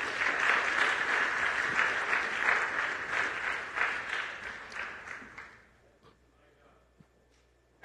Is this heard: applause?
yes